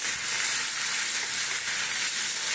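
Onion, tomato and chilli sizzle steadily in hot oil in a pan while an potato curry is cooked, a close, continuous bright frying hiss with no talking.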